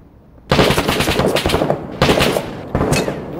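Gunfire aimed at the player in the video game Six Days, three loud close bursts of rapid shots with short gaps between them.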